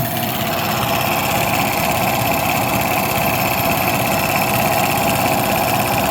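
A 1968 Oldsmobile 4-4-2 V8 idles steadily at about 1000 RPM, a continuous close rumble with a fairly even low throb and some mechanical whine, with no talking.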